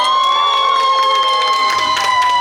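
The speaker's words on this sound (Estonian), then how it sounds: "kui vastuvõtjate ovatsioonide saatel Eesti töösportlased koju saabusid" Welcoming crowd at Tallinn airport greeting returning Estonian WorldSkills competitors, loud, dense cheering and shouting with high-pitched whistles or squeals running through it, continuous throughout.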